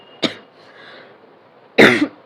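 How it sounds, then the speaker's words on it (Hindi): A woman coughs: a single sharp cough, then a short quiet pause, then a harsher cough burst and the start of another, close and loud. "ये मेरा खांसी बहुत ज़्यादा ही परेशान कर रहा है मुझे"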